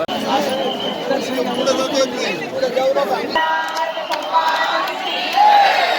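Dense crowd chatter at Pandharpur during the Vitthal darshan pilgrimage, a steady murmur of many voices with occasional louder calls and a swell near the end.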